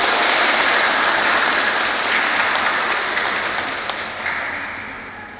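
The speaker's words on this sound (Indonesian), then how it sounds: "Iya, tepuk tangannya" Applause at a wedding ceremony: a crowd claps continuously in a dense, steady patter that eases off slightly toward the end.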